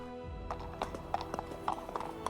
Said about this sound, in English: Balaam rode toward it on his donkey, his two servants beside him